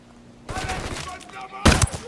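Gunfire from a sniper firefight in the video game Ghost Recon: a sudden burst of sharp, rattling shots, then a loud, close crack near the end, with no talk over it.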